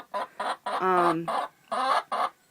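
A hen, injured and being treated in the coop, clucks in a series of short, close bursts with brief pauses, one longer drawn-out cackle in the middle.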